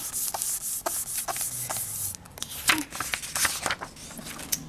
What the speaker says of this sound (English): I am just going to burnish it again, just to make sure everything's even.